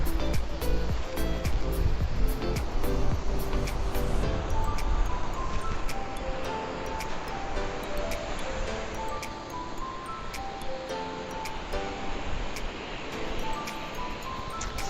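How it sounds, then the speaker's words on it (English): Ocean surf rolling in where a river mouth opens into the sea at Morgim Beach, Goa, a steady broadband wash of waves heard continuously throughout, with faint intermittent clicks and tonal sounds mixed into the beach ambience. "you can see the way that the waves are over here"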